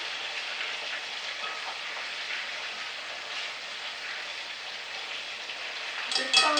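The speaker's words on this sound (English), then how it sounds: "Just fry it." Lobster balls fry in hot oil with a steady, even crackling hiss that runs unbroken throughout, then ends in a brief clatter.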